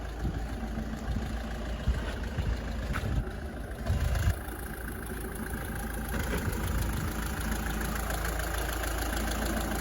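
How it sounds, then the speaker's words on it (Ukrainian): A Citroen C5 with a 2-litre diesel engine idles steadily and close by, a continuous low rumble with a faint knocking character and a brief louder swell near the middle, with no talk over it. "Зараз ми побачимо, як робить цей 2-літровий дізельок."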